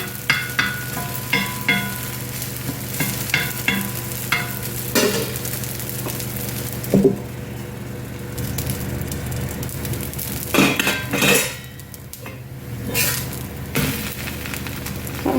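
Wheat adai dosa cooking on a hot pan, with a steady low sizzle and light frying crackle throughout, plus a few small clinks of utensils; no talking.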